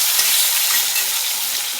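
Teasel gourd and potato pieces sizzle together in oil in a wok, a loud, close, continuous frying hiss with no voices.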